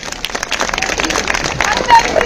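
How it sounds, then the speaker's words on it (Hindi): Crowd of party workers at a BJP political rally clapping in a dense, sustained burst of applause, close and fairly loud, with voices mixed in. "तो एक बार इसके लिए भी ताली बजा दो"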